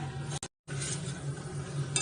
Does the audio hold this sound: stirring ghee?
yes